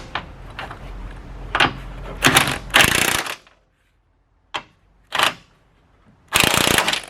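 Ratchet wrench tightening the front strut on a 1999-2003 Acura RSX, heard as several loud bursts of rapid clicking separated by brief pauses and near-silence.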